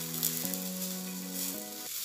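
An atta uttapam sizzles steadily in a hot pan over a medium-high flame, with a constant frying hiss that runs close and even throughout, alone and without any talk.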